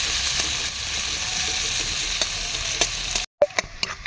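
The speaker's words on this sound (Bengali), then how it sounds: "আদা কুচি, কাঁচা লঙ্কা কুচি। এটা হালকা করে ভেজে নেব।" Chopped ginger, green chili and onion fry lightly in a pan, giving a steady close sizzle throughout, broken by a brief silent gap near the end and then a few sharp utensil clicks.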